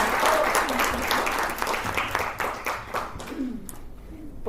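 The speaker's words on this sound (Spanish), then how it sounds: "Y cerramos, pues aplausos." An audience claps at a Central American forum on women, journalism and human rights, dense applause that thins and fades toward the end, with a faint voice near the close.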